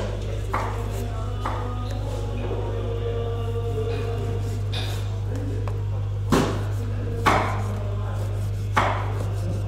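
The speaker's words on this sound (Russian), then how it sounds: "Мясо нарезается, видите, полосками." A knife chops fresh meat into strips at an Uzbek wedding, scattered sharp taps on a board over a loud steady hum, with voices in the background.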